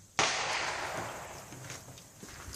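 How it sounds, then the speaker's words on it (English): A single sharp gunshot cracks nearby, its loud onset trailing into a long, fading outdoor echo and faint rumble. "And that was another gunshot out."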